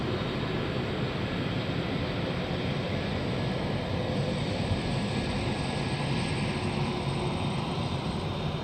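FedEx cargo jet arriving at Memphis from San Diego, a steady broad engine roar that stays loud and close throughout with no voices.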